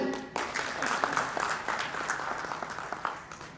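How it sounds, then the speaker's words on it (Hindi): An audience at a Hindi literary gathering and award ceremony breaks into applause after a brief pause: a sustained round of clapping from a seated crowd, moderately loud and without talk. "ताली।"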